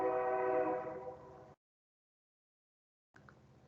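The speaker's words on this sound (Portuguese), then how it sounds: "Você consegue escutar o trem aí, pessoal?" A nearby train sounds a sustained, loud horn that fades out after about a second and a half, followed by silence and then faint rumbling noise.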